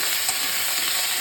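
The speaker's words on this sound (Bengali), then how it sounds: "প্রথমে এই সবজিগুলো আমি একটু ভেজে নেব।" Vegetables frying in a pan while being stirred, a steady, loud sizzle that runs without a break through the short stretch, with no talking.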